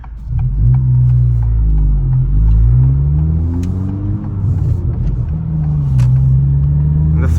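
A Honda Type R fitted with a Remark exhaust drones loudly from inside the cabin while driving, the deep note rising and falling as the throttle is worked, with no talking.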